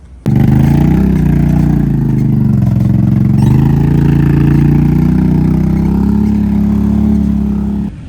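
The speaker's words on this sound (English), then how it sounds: "when I spin it over, it just sounds like it has no compression" Small mini bike engine with no compression, smoking and showing an oil light, spun over continuously at close range, a loud steady droning whir with a slight pulsing that runs several seconds alone before dropping off.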